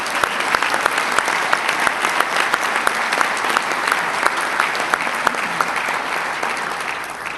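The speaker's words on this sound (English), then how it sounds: "Let's give him another round of applause." A large crowd claps steadily and loudly for several seconds, dense and sustained applause with scattered sharper claps.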